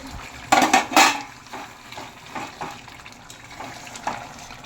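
Metal pot and lid clatter on a stove while jackfruit curry cooks, with a few sharp clanks up front followed by softer knocks and light rattles, close by and with no talk.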